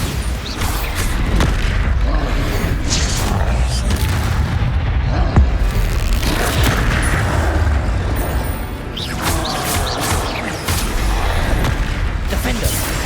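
Bombarda spell explosions from the video game Hogwarts Legacy, heavy booming blasts that run nearly nonstop through a loud, dense combat mix, with voices briefly heard among them.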